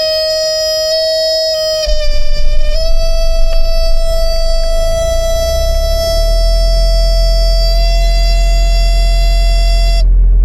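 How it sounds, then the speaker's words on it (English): A loud, steady electronic pneumatic-brake warning buzzer drones on for about ten seconds in a camper van while its engine idles underneath, then cuts off abruptly. "So that's the brake warning, because it's pneumatic brakes"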